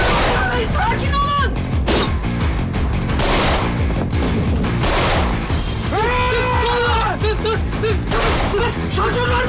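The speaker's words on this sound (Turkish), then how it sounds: "Çatışma çıktı." Gunfire breaks out during a shootout in a comedy film, with loud booming shots and bursts heard under constant shouting and a dense, dramatic music score.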